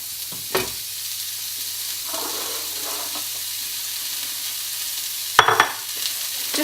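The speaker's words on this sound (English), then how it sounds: "Just letting that saute," Onion and zucchini sauté in a pan, giving a soft steady sizzle with a few brief clinks and stirring knocks, fairly close, with no talking.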